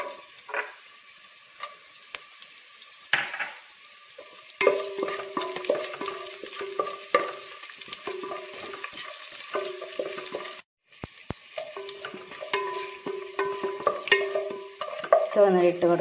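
Garlic and curry leaves fry and get stirred in a pan for a drumstick-leaf thoran, with a soft sizzle beneath repeated scraping stir strokes and clinks that grow busier in the second half.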